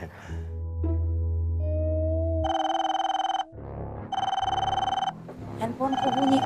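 A mobile phone rings with a melodic electronic ringtone, its bright tones repeating in bursts with short gaps, close and clear.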